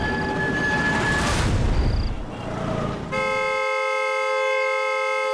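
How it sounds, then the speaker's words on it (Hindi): A vehicle horn blares continuously and loudly. A noisy wash of traffic comes first, then a steady, unbroken horn tone holds for the last couple of seconds. "अरे कौन है ये नॉन स्टॉप हॉर्न बजा रहा है?"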